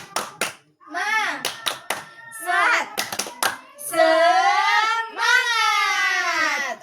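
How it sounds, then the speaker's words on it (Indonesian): Schoolchildren in a classroom chant and do a rhythmic spirit clap before a lesson, sharp patterned hand claps alternating with loud sung group voices. "Sebelum belajar, tepuk semangat."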